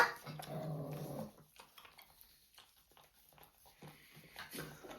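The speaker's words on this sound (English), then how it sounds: "That dog's finishing your dinner." A dog growls low while eating dinner indoors, a near rumble that pulses on and off across the stretch, with a person speaking briefly at the start.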